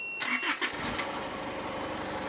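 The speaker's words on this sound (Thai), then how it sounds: "คราวนี้เดี๋ยวเราจะไปลองสตาร์รถดู" A car engine cranks briefly with a whirring starter, catches, and settles into a steady, even idle close by.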